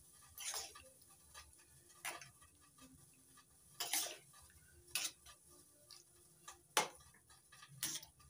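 Vegetarian winter-vegetable khichuri made with Gobindobhog rice is stirred in a pot, giving faint, intermittent spoon scrapes and clinks against the metal at irregular intervals over a quiet background.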